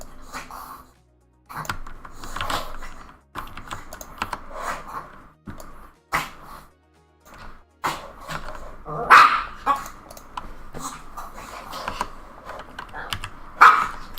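A dog barks indoors in a room with repeated short, sharp yaps scattered across the stretch, some louder and closer than others, mixed with computer keyboard typing in the background.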